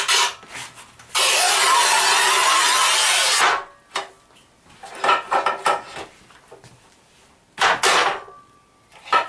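A Raimondi RAIMO 125 S manual tile cutter scores 12 mm matte porcelain stoneware with a loud, steady rasping scrape lasting a couple of seconds, followed by scattered knocks and short grinding rubs, then another brief scrape.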